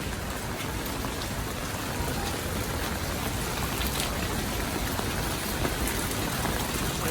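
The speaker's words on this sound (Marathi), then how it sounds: "कालपासून पाऊस खूप जास्तच पडतोय" Heavy monsoon rain pours steadily and densely at Rajapur, Konkan, a constant broadband hiss of drops on surfaces with no pauses and no voices.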